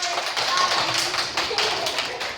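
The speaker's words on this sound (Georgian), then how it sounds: "ტაში დაუკარი, ტაში." Children in a classroom birthday celebration clap their hands in a dense, continuous patter of close, quick claps, with voices talking over the applause.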